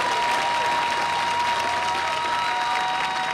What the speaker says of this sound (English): Let's have one more round of applause for the associate degree students.